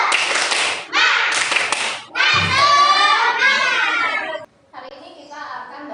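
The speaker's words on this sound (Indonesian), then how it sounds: "kita tepuk semangat dulu supaya belajarnya jadi semangat" A primary school class claps in quick rhythmic bursts of an Indonesian spirit clap, with children's voices chanting along between and over the claps, loud and close in a classroom.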